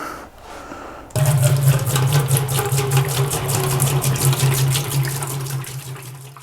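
Store-bought spring water pours into a home-brewing kettle, beginning with a sudden loud gush after a quiet second and continuing as a steady, close splashing stream.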